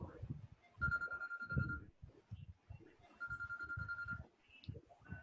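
A telephone rings in two long electronic bursts, an even repeating trill, while someone talks quietly over it about coupling hardness on a manufacturing drawing.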